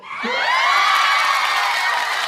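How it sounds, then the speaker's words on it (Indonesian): An audience at an Indonesian talk-show recording about family planning bursts into loud cheering and whooping, a sudden swell of crowd voices that holds steady for a couple of seconds. "Tepuk tangan dulu untuk semua."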